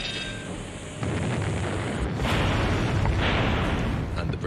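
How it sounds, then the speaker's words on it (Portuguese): British naval ship cannons firing on French vessels in a WWII documentary, a dense, continuous roar of booming gunfire and rumbling blasts, loud and sustained throughout. "os navios britânicos usaram seus canhões e foi um massacre"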